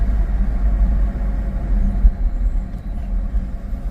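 A 2012 Kia Sorento engine labouring in limp mode, a steady low rumble heard from inside the vehicle that stays flat and heavy without climbing, with no talk over it.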